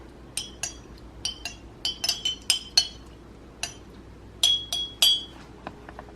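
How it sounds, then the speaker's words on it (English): A spoon stirring a matcha latte in a glass makes bright, sharp clinks, coming singly and in quick clusters against a quiet background, close and fairly faint. "I'm just gonna go ahead and stir it."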